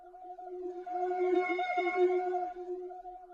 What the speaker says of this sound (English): I just duplicated the bell and then reversed it here.